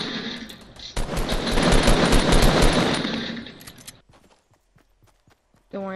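Rapid automatic gunfire in a Fortnite match, a dense loud burst of shots lasting a few seconds, followed by scattered quieter clicks and a brief voice at the end.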